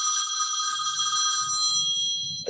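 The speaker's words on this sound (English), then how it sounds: "My phone is ringing" A mobile phone rings steadily at a conference talk, its bright electronic tone sustained without a break, with faint low rustling underneath and a soft knock at the end.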